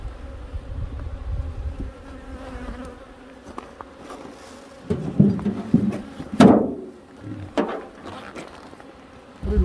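Honey bees buzz steadily around a hive far up north, a continuous close droning swarm with louder passes near the microphone and no talk.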